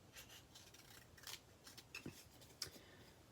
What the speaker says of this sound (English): I'm going to just take my snips and I'm going to cut just under the line